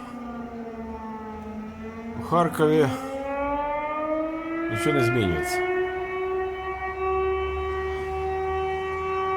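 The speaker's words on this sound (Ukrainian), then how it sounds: "Знову повітряна тривога лунає." An air raid siren wails over Kharkiv's Saltivka district on an evening in March 2024, holding a long, steady rising tone with strong harmonics. Someone talks over it, and brief bursts of other noise break in twice.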